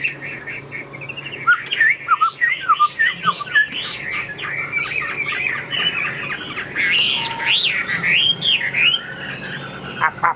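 A caged songbird sings loudly and close by, a rapid string of bright chirps, trills and whistled phrases that runs almost without pause.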